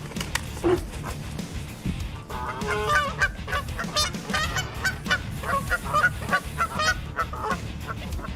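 Geese honk loudly and repeatedly in a noisy outdoor scene, harsh overlapping calls with a dog barking and whimpering among them.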